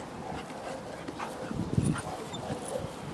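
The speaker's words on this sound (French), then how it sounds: "Ne vous occupez pas du chien, s'il vous plaît." A Belgian Malinois whimpers softly in short, faint whines amid quiet room noise, the whining peaking briefly midway before trailing off.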